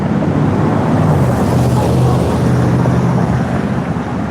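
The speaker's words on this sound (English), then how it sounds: "the loud noise. I'm now walking close to the road." Road traffic noise heard while walking close to a road: a loud, continuous roadside rumble and wash of passing vehicles, steady throughout with no clear breaks.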